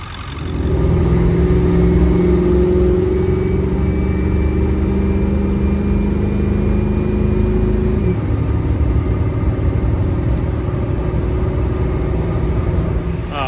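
Ford 7.3 diesel truck, freshly fitted with a fuel bowl delete, regulated return and resealed HPOP, driving with a steady, loud cabin drone that shifts pitch once partway through, no talk.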